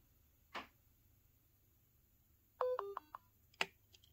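A tiny boombox Bluetooth speaker plays a short series of bright electronic pairing tones in a quick rising-and-falling pattern, followed by a single sharp beep, in an otherwise quiet room.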